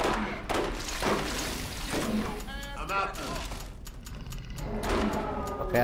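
Gunfire in Borderlands, bursts of shots and mechanical clatter in a busy firefight, mixed under constant excited talking from players.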